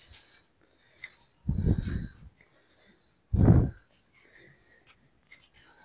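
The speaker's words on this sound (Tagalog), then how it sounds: "Pasensya na mga lods, bali hinihingal ko" Heavy panting from a man climbing steep stairs on a trail at Kawa Kawa Natural Park in Ligao, Albay, Philippines, with two loud, rough breathy gasps standing out against quiet background.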